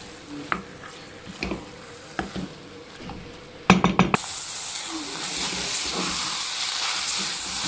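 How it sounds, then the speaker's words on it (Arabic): Minced meat sautéing in a pan gives a steady hiss and sizzle, with a few spoon clinks and stirring knocks early on before the frying noise swells louder and holds. "كده بقى اللحمه اتشوحت معايا بقت حلوه"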